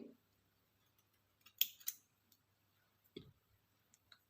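Scissors snip through thread for a beaded tassel, giving a few sharp close clicks around the middle and one more later, over a quiet background.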